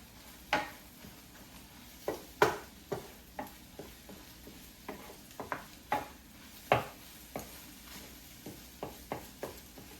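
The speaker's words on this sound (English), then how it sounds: "These eggs is cooking, and I'm just gonna break them up nice and good." Scrambled eggs sizzle softly in a pan for a breakfast burrito while a utensil breaks them up, giving irregular scraping and tapping knocks against the pan over a low frying hiss.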